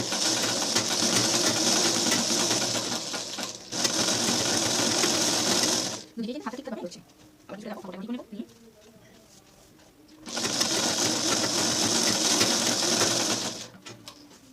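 An electric sewing machine stitches the fall onto a saree in three loud, close, steady whirring runs, with a quieter stretch of cloth handling and faint clicks between the second and third runs.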